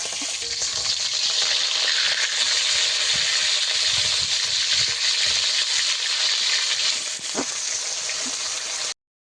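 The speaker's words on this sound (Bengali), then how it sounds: "মাছটি আমি এইভাবে দাঁড় করিয়ে কিছুক্ষণ ভাজবো।" A piece of bhola fish stands frying in hot oil, giving a loud continuous sizzle with small crackling pops and one brief clink, before the sound cuts off abruptly.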